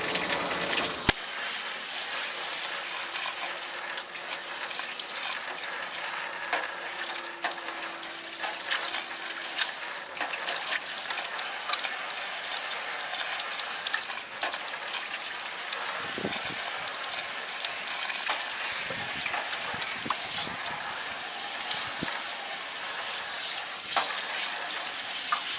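Water runs continuously with a steady hiss and splash while cleaning a swamp cooler, faint knocks and handling noises breaking in toward the end, no voices over it.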